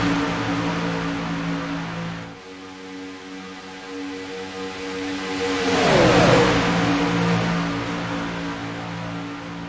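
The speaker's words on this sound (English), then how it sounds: "let you hear these cars go around here at full song" Race cars circle a track, their engines droning in a steady, layered hum. One car swells louder as it passes close by at speed, then fades into the background roar.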